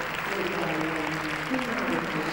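Audience applauding dancers leaving the floor at a 2001 European dance championship in Finland, a dense, steady wash of clapping from a large crowd.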